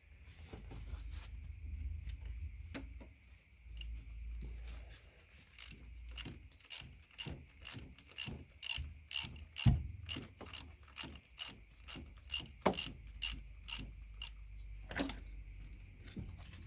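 A ratchet wrench loosens gearbox perimeter bolts on a VW Golf 6 1.6 TDI, giving a long run of fast, evenly spaced clicks close up after some softer handling sounds.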